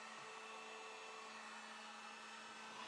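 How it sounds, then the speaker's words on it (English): Heat gun blowing steadily to dry craft paint on a mini house makeover, a continuous close airy roar with a faint motor whine, alone and unbroken for the whole stretch. "So sorry about the heat gun sound."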